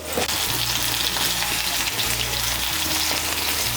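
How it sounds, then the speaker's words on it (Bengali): Ridge gourd slices frying in oil with a pinch of turmeric powder, a loud, dense, continuous sizzle close up with faint stirring underneath and no voices. "তাই সামান্য একটু হলুদের গুঁড়ো দিয়ে ঝিঙেগুলোকে ভেজে নেব"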